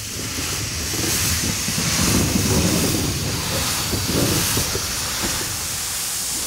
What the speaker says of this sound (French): Quand tout est prêt et vérifié, la locomotive part se mettre en tête de son train.